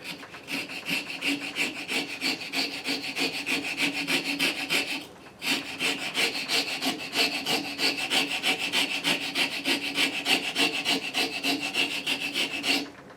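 A coarse file rasps back and forth across the pinewood of a derby car in fast, even strokes, loud and close. There is one brief pause partway through, and no voices.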